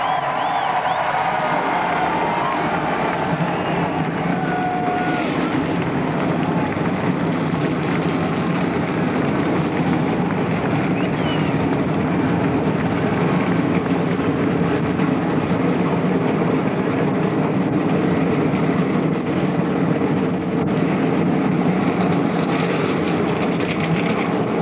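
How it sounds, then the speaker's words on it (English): Stock cars at the 2001 MBNA Cal Ripken Jr. 400 at Dover Downs fire up on the starting grid, a loud, steady, dense engine roar that holds throughout with no break, blending with a crowd murmur underneath. "Gentlemen, start your engines."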